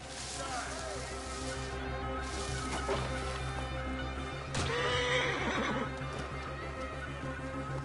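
A horse whinnies loudly over a game soundtrack with hoofbeats, then neighs again later amid steady background music and effects.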